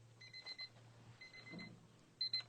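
An alarm clock beeps in short repeated bursts, fairly faint, with a low hum underneath and a faint voice in between.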